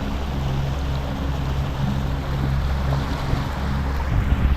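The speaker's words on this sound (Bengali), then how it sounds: "প্রকৃতির মধ্যে বয়ে চলা জলের মধ্যে দিয়ে এগিয়ে চলা" Continuous low engine drone of a boat on a river in Panna Tiger Reserve, Madhya Pradesh, with washing water and wind noise, steady and fairly loud throughout.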